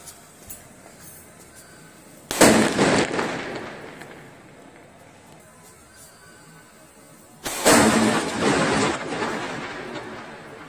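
Two sharp blasts from Classic foil firecrackers about five seconds apart, each followed by a fading crackling hiss, loud and close.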